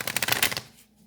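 A deck of oracle cards is shuffled in a quick burst of rapid riffling clicks lasting about half a second, close and crisp, then fading into quiet room tone.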